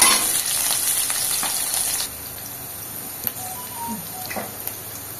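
Small-cut onion frying in a pan, a loud sizzle at first that settles to a quieter crackle with a few light clinks.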